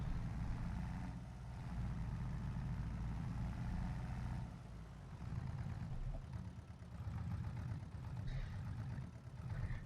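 Engine of a farm vehicle pulling out slowly in Farming Simulator 22, a steady low rumbling drone with mild swells in level, heard alone without talk.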